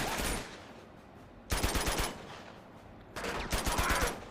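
Gunfire in the video game Uncharted 2: Among Thieves, with two loud bursts of rapid automatic shots separated by a quieter stretch, close and sharp, with no talking.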